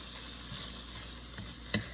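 Bacon and onions sautéing in a pan for hamburger sliders, with a steady soft sizzle, light stirring scrapes and a brief utensil clink near the end.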